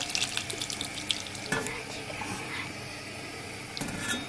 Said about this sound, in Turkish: Şimdi buna ben bir kısmını buna döküyorum.